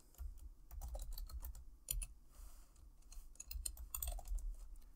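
Quiet, close clicking of a computer keyboard while C# code is typed for a Unity project, with irregular bursts of keystrokes separated by short pauses and no talking.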